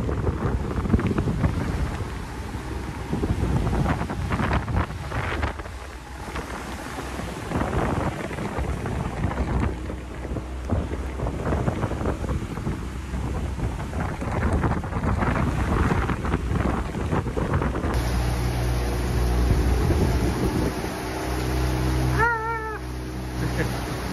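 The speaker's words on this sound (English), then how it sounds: "Of course, that storm came earlier than predicted," Storm wind buffets the microphone on a boat sailing back toward the coast for a marina, with rough gusting noise and water sounds, while a voice talks over parts of it.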